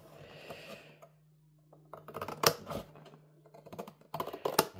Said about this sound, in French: Je vais suivre avec mon ciseau, ça sera mieux.